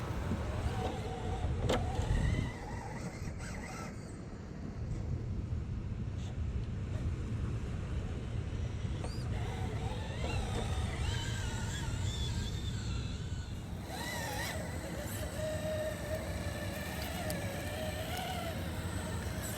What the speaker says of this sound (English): with the worm gears, this truck's a little louder than normal